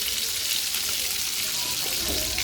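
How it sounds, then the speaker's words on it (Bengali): Taki fish fries in a pan on a stove, giving a steady, fairly soft hiss and crackle that runs evenly without a break. "চুলায় মাছটা ভাজার জন্য দিছি টাকি মাছটা"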